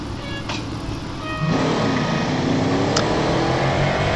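A racing car in the Real Racing 3 video game pulls away, its engine note rising steadily in pitch as it accelerates, loud and continuous with no talk.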